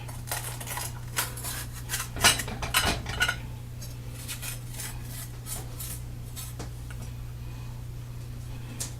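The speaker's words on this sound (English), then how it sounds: "cutting out the seeds out of the green pepper" A knife works through a green pepper on a cutting board, cutting out the seeds, giving irregular light taps and scrapes over a steady low hum, with a denser cluster of clicks partway through.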